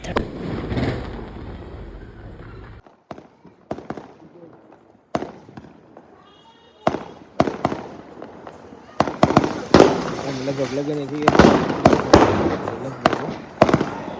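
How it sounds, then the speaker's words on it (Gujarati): Firecrackers burst in a series of sharp, loud bangs at irregular intervals, some close together, with people talking between and under the blasts. "પછી ફટાકડા ફોડતા હતા એનો વિડીયો લીધો થોડી વાર માટે."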